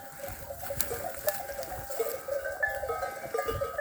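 Sheep move about in a quiet rural setting with small bells clinking now and then and a faint bleat; nobody speaks.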